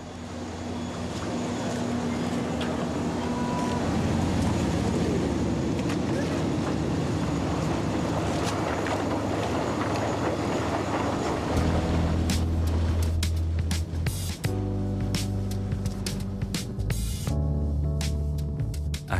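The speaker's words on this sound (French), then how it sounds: "Le bateau reste le moyen privilégié pour circuler sur le lagon." A boat crosses a Polynesian lagoon, its engine droning loud and steady for the whole stretch, with wind and water rushing past and tonal engine hum growing clearer toward the end.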